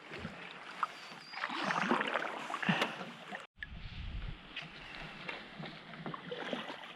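A canoe paddled across a lake in the Boundary Waters, with steady splashing strokes and water washing near the hull, a brief cut midway, and wind in the background throughout.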